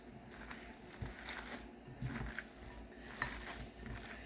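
Meatloaf mixture of ground meat and eggs being worked by hand, soft squishing and squelching with occasional light bumps against a bowl, quiet and steady.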